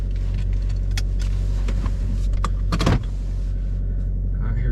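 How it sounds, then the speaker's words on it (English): Abandoned Chevy Volt running on its engine, a steady low idle rumble that holds throughout, with a brief mechanical clatter near the middle. "It's actually running off of engine power."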